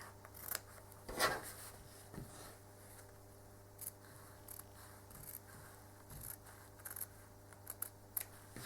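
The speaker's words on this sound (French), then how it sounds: "vous reprenez vos ciseaux et vous essayez de toujours garder la pointe du ciseau vers le haut" A few faint, sparse snips of scissors cutting quilt fabric, with quiet pauses between the cuts and no talking.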